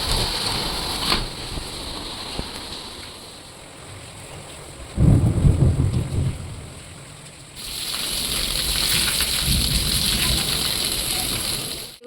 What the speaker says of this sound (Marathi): किती मोठा पाऊस येतो